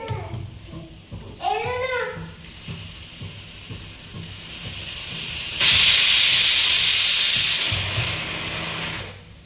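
A voice and chatter come first, then a kitchen pressure cooker lets out a loud, steady rush of hissing steam that lasts about four seconds before it cuts off.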